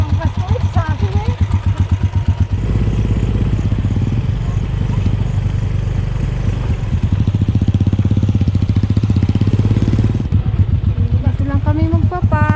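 A motorcycle engine chugs and rumbles close by on a rural countryside ride in the Philippines, with steady, pulsing low revs. A voice talks over it in the first seconds and again near the end.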